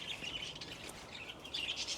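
Pet birds in a backyard aviary chirp and tweet continuously, thin high calls scattered over a soft outdoor hiss, with no talking.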